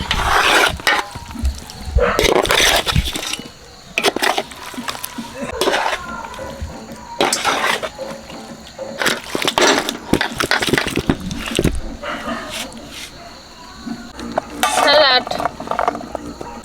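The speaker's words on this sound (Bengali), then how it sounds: "এক লৌকা বাটি তেল দিয়ে দিচ্ছি বাটা মশলা দিয়ে দিচ্ছি ভালো করে মাখিয়ে নিচ্ছি" Meat being mixed by hand with oil and ground spice paste for a Bengali-style kosha mangsho, giving wet squelching and rubbing in bursts, close and fairly loud, with a brief voice in the background.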